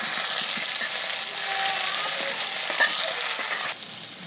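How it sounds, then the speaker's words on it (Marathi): Onion and tomato fry in a pan for chicken keema, a loud, close, steady sizzle with stirring scrapes that cuts off abruptly near the end. "कांदा टोमॅटो आपला छान भाजलेला आहे."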